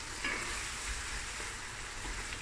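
Rice being stirred with seasoning, sugar and vinegar in a pot, a steady soft scraping and swishing with a faint sizzle-like hiss running continuously underneath.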